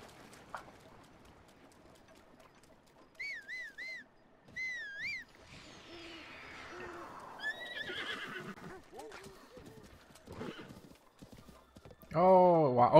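A horse in a Zelda game, with soft rhythmic hoofbeats, a couple of whistled calls and a clear neigh near the end, over a quiet ambient game soundscape.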